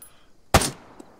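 A single sharp gunshot in the ArmA 3 video game, fired by an injured squadmate, cracks out once, loud and close, with a brief tail and a faint distant pop after.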